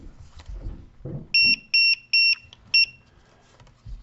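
A QR code scanner module sounds five short, sharp, high electronic beeps in a quick stop-start series after some brief handling noise, then goes quiet.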